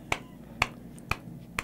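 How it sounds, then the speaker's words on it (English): Four sharp hand claps spaced about half a second apart, crisp and fairly close, each a short bright crack with quiet room tone between them. "Why are you clapping?"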